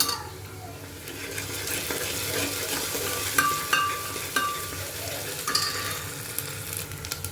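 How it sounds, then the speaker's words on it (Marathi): Ginger garlic paste stirred into a sizzling pan of pav bhaji: steady frying hiss with several sharp clinks of a spoon against the pan, close and continuous, no talking. "आता आपण याच्यामध्ये आलं लसूण पेस्ट घालूया आणि छान मिक्स करू"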